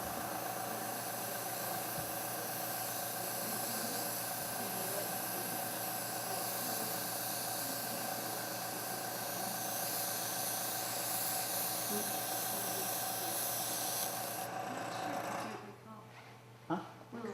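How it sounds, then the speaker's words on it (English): An airbrush sprays a scratchboard background with a steady, continuous airy hiss that holds evenly for about fifteen seconds, then cuts off, leaving faint room noise. "backgrounds are very easy to do with if you have an airbrush"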